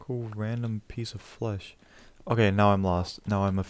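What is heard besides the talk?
No everyday noises stand out.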